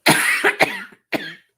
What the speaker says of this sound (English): it was causing me to cough